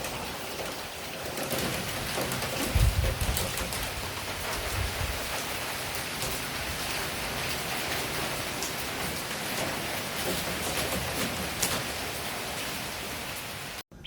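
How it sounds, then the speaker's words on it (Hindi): Heavy rain pours steadily in green hill country at Vagamon, a dense continuous hiss of drops on surfaces with a few louder splatters and gusts, no voices over it. "अच्छा खासा बारिश हो रहा है"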